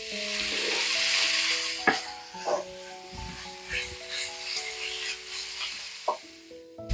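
Beef hits hot oil in a pan with a bright hiss that swells early and then slowly fades, partly masked by background music.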